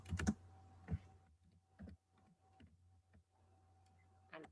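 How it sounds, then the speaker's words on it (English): Light typing on a computer keyboard: scattered soft key clicks and a few sharper taps at an irregular pace, close and quiet over a faint steady hum. "I can just type in Google Docs"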